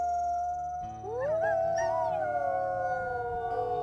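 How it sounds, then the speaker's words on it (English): A wolf in the game WolfQuest lets out one long, rising howl that holds steady and then slowly fades, heard up close over a soft, sustained ambient music bed. "Let's do a little bit of howling here."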